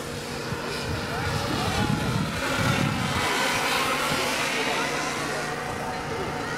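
A radio-controlled scale model DC-6 airliner comes in to land at a scale aircraft festival, its steady engine drone broad and fairly loud throughout, with people talking over it.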